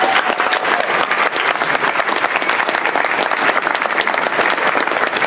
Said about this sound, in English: I'd like them to stand up and give them a round of applause too.